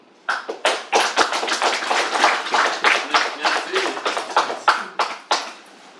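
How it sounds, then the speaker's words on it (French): Audience at an association gathering clapping in a sparse, uneven patter of distinct individual claps from a small group, close and fairly loud, continuing for several seconds. "Sous vos applaudissements."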